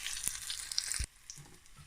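Boneless fish fries in a pan with a bright crackling sizzle, close up, that cuts off abruptly near the midpoint, leaving faint low clatter and quieter sizzle afterward.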